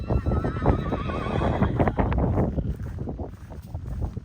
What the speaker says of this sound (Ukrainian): Це є тут така кобилка